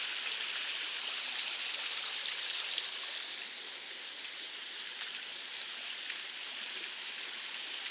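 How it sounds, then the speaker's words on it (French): Running water streaming through a village: a steady, close, bright rushing hiss that continues evenly with no pauses or voices. "En traversant le village, on entend de l'eau partout en fait"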